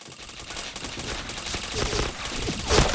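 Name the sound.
gunfire from an MK rifle in the video game Point Blank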